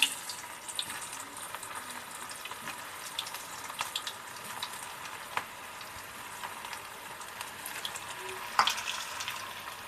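Stuffed onion fritter balls fry in hot oil over a slow flame, making a steady close sizzling hiss dotted with small pops and crackles, no voices.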